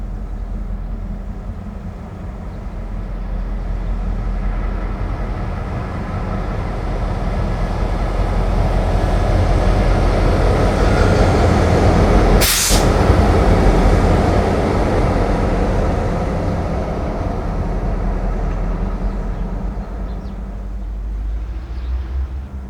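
Freight train H25 hauled by a pair of slow-moving GP38-2 diesel locomotives on a curve in Chester County, a steady low rumble and rolling drone that swells toward the middle with a brief sharp burst, then slowly fades.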